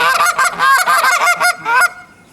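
A hunter's goose call honks hard in a quick run of loud, close, raspy blasts that end abruptly, imitating geese calling.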